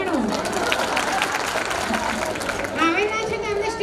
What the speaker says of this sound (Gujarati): એમના પતિ માટે બી તાળી વગાડો